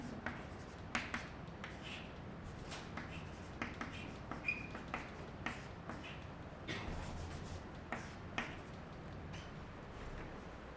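Chalk or marker scratching on a board in a physics lecture on electromagnetic induction, a steady run of short strokes and taps with a few sharper clicks, fairly close in a quiet room, no talking.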